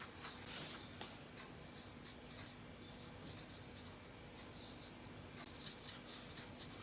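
Blending markers colouring on paper, a faint, steady scratchy rubbing with small squeaks as the tips stroke back and forth, quiet and close with a low background hum.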